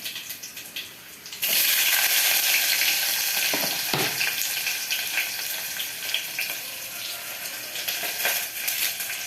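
Garlic cloves, small onions and green chillies hit hot oil with a sudden loud burst of sizzling, then crackle and spit steadily up close, with occasional clinks of a stirring utensil.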